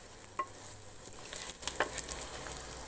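Butter and salt stirred in a pan for cheese pasta: a few scraping spoon strokes over a low, steady sizzle, close and fairly quiet, with no talking.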